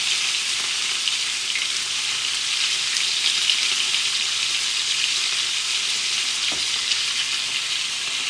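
Salmon fillets sear in a hot pan with a steady, loud sizzle and crackle throughout, no talking, with a brief sharper pop near the end.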